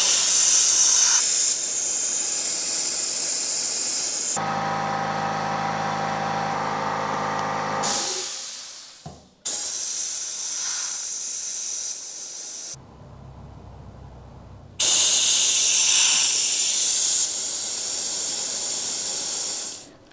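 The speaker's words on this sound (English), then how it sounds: "Now suck the fluid down to the bottom of the reservoir, but don't let it suck any air in" A vacuum tool sucks brake fluid from the reservoir of a Honda CB1300 motorcycle, producing loud, steady airy hissing in long stretches broken by abrupt stops, a short lower-pitched hum, and near-silent gaps.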